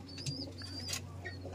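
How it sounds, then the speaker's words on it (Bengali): Pigeons of many kinds in a breeding-pair room, with soft low cooing and a brief wing flutter over steady indoor hum and faint chirps, no talking. "দেখুন পায়রাগুলো দেখুন"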